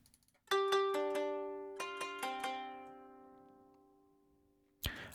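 Plucky, sharp-attack lead synth from the stock Logic Kodo sample plays a handful of bright notes in two short bursts, each ringing out with a long fading tail, ending in a brief noisy hit.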